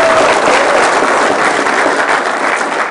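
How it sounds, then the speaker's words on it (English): Sustained applause from an audience at a tech talk on Visual Studio Code, steady and dense throughout with no speech on top. "So round of applause for Daniel here for adding that."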